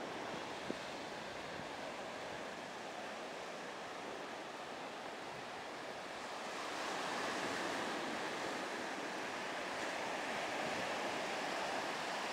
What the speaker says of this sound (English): Nice beach, Chotika.